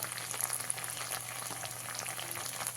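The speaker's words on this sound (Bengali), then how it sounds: "পরিমাণ মতন লবণ দিয়ে খুব ভালো করে মশলাটাকে কষিয়ে নিতে হবে" Spice masala with Kashmiri chili, turmeric, coriander and pepper powders being sautéed in a pan gives a steady, fairly quiet fry that hisses and bubbles evenly throughout, with no talking.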